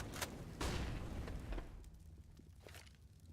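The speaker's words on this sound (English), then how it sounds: "Throwing flashbang!" A flashbang grenade goes off in the game CS:GO, a sharp bang and burst followed by fading rumble and scattered clicks, fairly close and alone.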